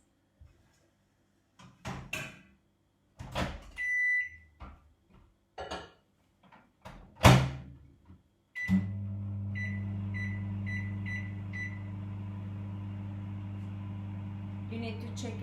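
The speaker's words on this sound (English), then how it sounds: "now I'm gonna put it inside of the microwave for 3 minutes" A steady low hum starts partway through and keeps going, with a faint higher tone over it, after a stretch of scattered clatter and knocks.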